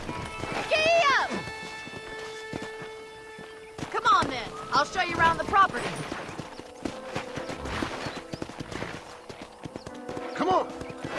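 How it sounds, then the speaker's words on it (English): Horse hooves clip-clop on the ground in the video game Red Dead Redemption, a rhythmic run of close hoofbeats with snorts and a whinny, under a man's spoken lines. "I picked out a fine horse for you. Giddy up!"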